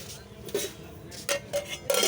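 Metal cooking pots and their lids are handled at a weekly market stall in Fatullah, Narayanganj, making several quick clanks and scrapes in an uneven rhythm against a background of quiet crowd murmur.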